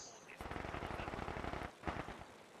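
Rapid machine gun fire from the video game Company of Heroes 2, loud dense bursts sustained for over a second, then a brief pause and a shorter second burst.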